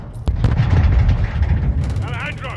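Sustained gunfire and heavy battle noise in Call of Duty Modern Warfare 2, a dense continuous barrage that fades slightly toward the end as a voice speaks over it.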